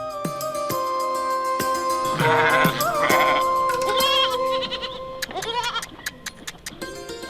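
Several goats bleat in a loud, overlapping chorus nearby, with wavering cries rising and falling over a sustained musical background.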